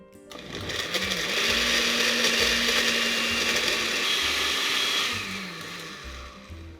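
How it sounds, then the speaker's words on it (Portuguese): An electric blender purees carrots at maximum speed: the motor spins up into a loud, steady whir, holds for several seconds, then winds down near the end. "Para desmanchar a cenoura é só bater em velocidade máxima até ficar tudo líquido."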